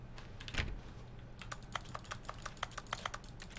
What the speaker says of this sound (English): the gif of the cat just, like, smacking the fucking keyboard? That's exactly what this sounds like.